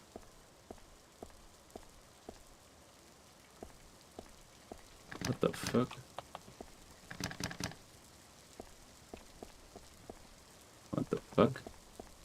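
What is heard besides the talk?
rain in the video game I See You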